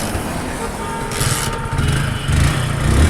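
Hero HF Deluxe BS6 motorcycle engine idles with a buzzing, slightly uneven putter close by, growing a little rougher and louder toward the end as someone talks over it.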